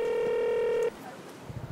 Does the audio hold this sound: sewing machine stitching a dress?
no